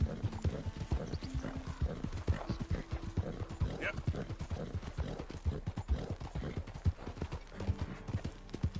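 Horse hooves clip-clop steadily in Red Dead Redemption II, a brisk regular gait with an occasional whinny, heard under ongoing talk.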